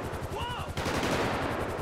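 Gunfire in a video game hitting the player's character, a rapid rhythmic burst of repeated shots lasting under two seconds, loud and close, with brief game sound effects before it.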